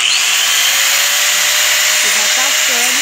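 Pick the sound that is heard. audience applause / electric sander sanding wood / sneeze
electric sander sanding wood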